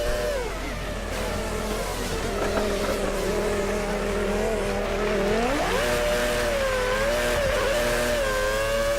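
Formula 1 2013 racing game car on the Montreal circuit, engine note dipping and rising steadily as it brakes hard and the tyres squeal and skid, a continuous loud drone throughout with no voices.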